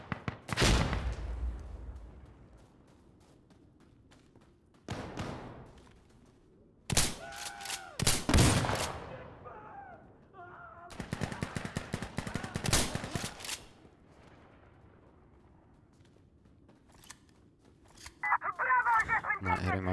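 Bursts of gunfire from Insurgency Sandstorm, with single loud shots and rapid automatic volleys spread across the clip, a couple of long strings of fire and quieter gaps between them, no talk over it.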